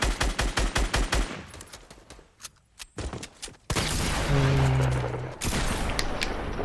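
Rapid bursts of gunfire in a Fortnite match, close and loud: a fast string of shots, a pause with scattered single cracks, then a sustained dense barrage with an explosive boom and a rising tonal effect beneath.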